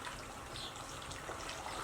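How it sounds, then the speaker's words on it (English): Water pours and gushes steadily into a foam cannon bottle for car washing, a continuous faint splashing stream with no talk. "I'll add a little water because it was really hot anyway."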